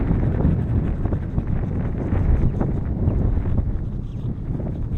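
Strong, cold wind gusts across the Bardenas Reales desert, roaring and buffeting the microphone in a constant heavy rush with no voices.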